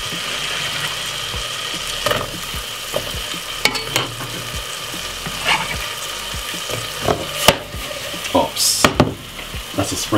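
Garlic and spring onion fry in a pan at the start of a creamy potato soup, with a soft sizzle broken by sharp clinks and scrapes of a stirring utensil and faint talk.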